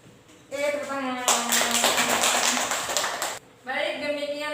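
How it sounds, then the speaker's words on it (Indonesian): Students in an Indonesian classroom burst into a loud round of hand clapping for about two seconds, between stretches of a teacher talking. "Oke, tepuk tangan."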